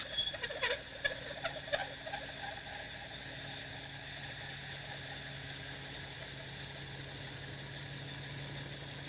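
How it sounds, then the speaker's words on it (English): A Geoprobe 3100GT core drill cutting a 6-inch hole through concrete, running at around 750 RPM in fourth gear, gives a steady humming, grinding drone, with a few sharp knocks early before settling into an even, continuous whir. "this setup will make very quick work of coring this 6-inch hole through the concrete"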